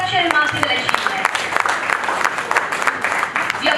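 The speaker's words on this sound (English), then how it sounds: "Can we have a big round of applause for such a remarkable achievement?" Audience applause at the inaugural session of an international conference: a steady patter of many hands clapping at moderate volume, sustained for several seconds without a clear break.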